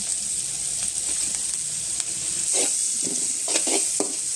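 Onions and vegetables frying in a pan for paneer fried rice, a steady close sizzle with several scraping stirs of a spatula toward the end, no voices.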